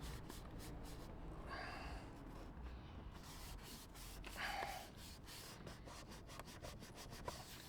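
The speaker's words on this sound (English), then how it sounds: "the tape's all on the fender liner. The 3M tape. And then just rub it back and forth pretty good here" 3M tape is rubbed back and forth onto a truck fender liner for a chip guard, a soft close scuffing and rubbing sound in steady strokes, fairly quiet.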